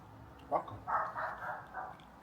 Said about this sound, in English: Now you got the dogs barking.